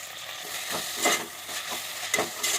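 Mint, coriander and green chillies sautéing in a pan for cooker chicken biryani: a continuous close sizzle with repeated scraping stir strokes, no voices.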